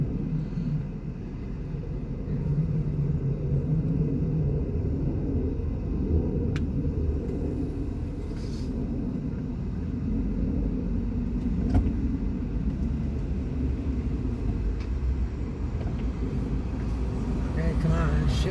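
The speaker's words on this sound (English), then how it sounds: "Probably a damn city truck. They don't know how to drive a stick." A city truck with a manual stick shift drives past, a steady loud low engine rumble that swells and eases as it shifts gears, with wind noise across the mic and no clear talk.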